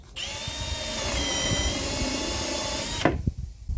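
A power drill bores a hole through an 18 mm laminated wood board with a loud, steady high whine for about three seconds, then stops, leaving brief clattering handling sounds.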